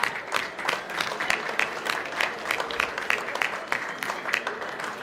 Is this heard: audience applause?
yes